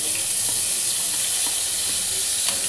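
Garlic frying with potatoes in a hot pan, a loud, steady hiss of sizzling oil with faint intermittent scrapes of stirring, close and continuous without talk.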